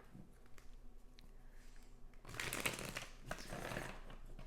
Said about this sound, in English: I'm going to put these back in and just do a little bit more shuffling here.